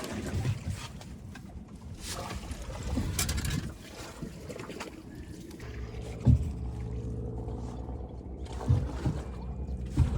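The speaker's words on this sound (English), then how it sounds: "And he's rowed us almost all the way over to here." Oars work a small fishing boat on open water, with dull knocks and splashes at irregular intervals over steady wind and water noise, fairly close and moderately loud.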